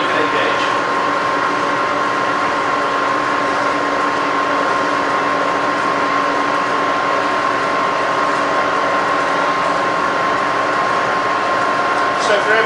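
A rebuilt Bridgeport milling machine running with the quill power feed engaged, giving a steady mechanical whir and gear hum with a faint ratcheting texture, loud and continuous from start to finish.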